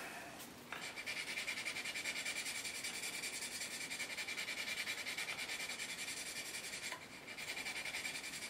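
Steady, faint hand sanding and polishing of a surface, an even continuous rasping scrub with a brief pause near the start and another near the end, no voices.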